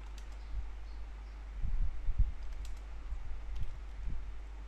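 Soft typing on a computer keyboard at a Windows PC, a short run of light key clicks in the middle against a low steady hum, faint and close with no talk.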